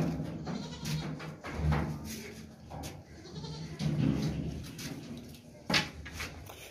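Goats, including a 1.5-month-old kid, at a livestock sale give several short, scattered bleats over a few seconds, mixed with light knocks and rustling nearby.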